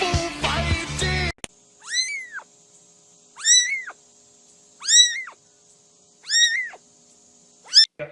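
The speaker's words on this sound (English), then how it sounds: "No, get this cat out of here!" A cat meows five times in a steady, evenly spaced series of clear, close calls, following a brief burst of loud mixed noise at the start; no one talks.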